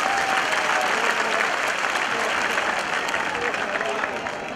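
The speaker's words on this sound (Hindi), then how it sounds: "जोरदार तालियों से करबद्ध तालियों के साथ उनका अभिनंदन करें" Dense crowd applause at a political convention in Talkatora Stadium, Delhi, a continuous wash of many clapping hands filling a large hall, steady and loud throughout with a murmur of voices underneath, easing slightly at the end.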